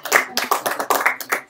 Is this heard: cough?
no